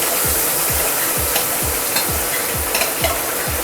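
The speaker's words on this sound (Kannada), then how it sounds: "ಖಾರದ ಪುಡಿ ಹಾಕ್ಕೊಂಡು ಇದನ್ನ ಒಂದು ಸ್ವಲ್ಪ ತಿರುಗಿಸ್ಕೊಳ್ಳೋಣ" Chili powder stirred into paneer masala frying in a pan: a steady loud sizzle with regular scraping strokes of a spoon, about eight rhythmic stirs, no voices.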